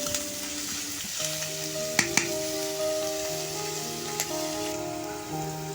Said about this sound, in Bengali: পেঁয়াজগুলো ভালোভাবে ভেজে নিব, তারপর পরিমাণ মতো মশলা দিয়ে দিব।